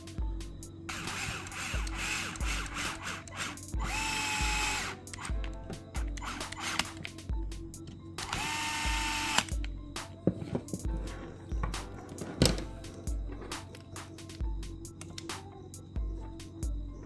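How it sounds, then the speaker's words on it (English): An RC car's differential case being screwed onto an MST RMX 2.0 chassis with a power tool, giving two short, loud whirring bursts among lighter handling clicks and knocks at close range. "we're just going to screw the diff case part onto the chassis so it holds it down for us."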